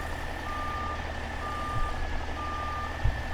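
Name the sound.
truck reversing beeps while backing up, American Truck Simulator video game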